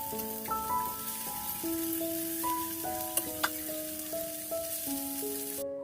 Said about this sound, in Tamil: ஒவ்வொரு மீனா நான் இதில் வச்சு வறுக்க ஆரம்பிச்சிட்டேன்